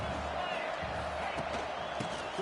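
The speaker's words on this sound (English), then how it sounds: "this crowd is fired up. Listen to this noise here." Football stadium crowd at a college conference championship game, a steady loud roar of fans cheering with faint bursts, continuous throughout without a break.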